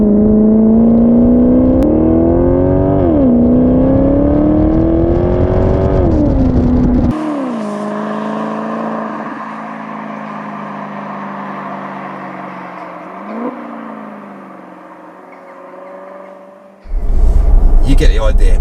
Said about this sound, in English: if I show you some more exhaust tones now